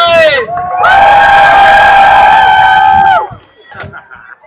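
Loud crowd cheering and whooping at a Renaissance fair right after a team victory, a sustained roar of shouting voices lasting about three seconds before fading into scattered calls.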